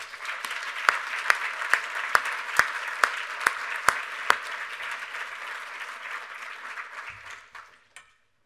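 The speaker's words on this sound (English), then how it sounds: "Please, a round of applause." An audience claps in a hall at the closing of an annual conference, steady dense applause lasting several seconds with a few sharp louder claps near the front, then fading out and stopping.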